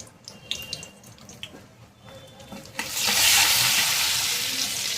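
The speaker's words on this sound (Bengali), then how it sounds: "আলাদা একটি কড়াইতে দিয়ে দিচ্ছি ঘিটা, দিচ্ছি চিনি, দিচ্ছি কটা তেজপাতা, দিচ্ছি ড্রাই রোস্ট করা মশলাটা" Ghee, sugar, bay leaves and dry-roasted spices hit a hot pan for wedding-style mutton kosha: quiet clinks and rustles first, then a loud, sustained hissing sizzle that swells suddenly and keeps going.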